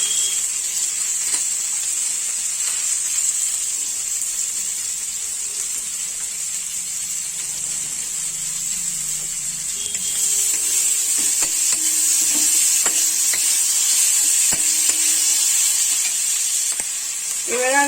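Chopped ginger, garlic, green chili and tomato sizzle steadily in a hot pan for egg potato pasta, a constant bright hiss with occasional stirring scrapes and clicks toward the end, no talking.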